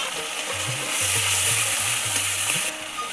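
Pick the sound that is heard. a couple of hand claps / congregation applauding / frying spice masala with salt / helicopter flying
frying spice masala with salt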